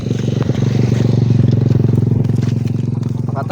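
A motorcycle rumbles close by on a street, its steady engine drone loud and continuous throughout, with light clattering on top.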